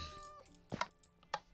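A Minecraft cat lets out two short synthetic meows close up, the second following about half a second after the first.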